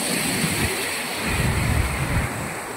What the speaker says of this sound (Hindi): ये बहुत पानी चल रहा है लूनी नदी के अंदर